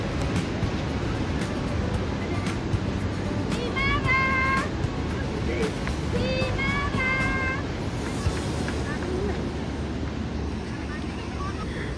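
Surf washes steadily at a clear-water, clean-sand beach in Jogja, a constant broadband wash with wind noise, while a person talks over it.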